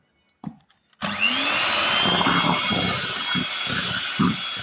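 After a couple of soft knocks, an electric mixer starts abruptly, whirring loudly as it whips cream cheese into a cake cream, its tone pulsing unevenly as the beaters work through the mixture.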